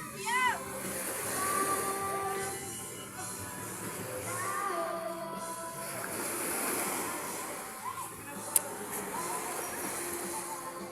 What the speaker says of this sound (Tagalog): Malakas na po yung alon.